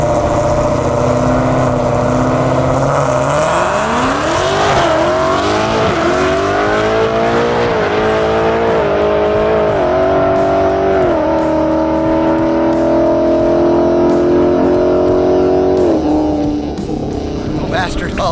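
Mustang race car launching down a drag strip, its engine roaring close and loud and climbing in pitch through several gear shifts with a steady high howl, while people talk over it.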